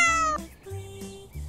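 A cat meows several times, close and clear, a couple of drawn-out cries followed by shorter ones, with no talk over them.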